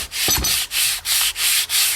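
A wooden axe handle is sanded by hand in six quick, even back-and-forth strokes. The scratchy rasp is close and loud, with no voices.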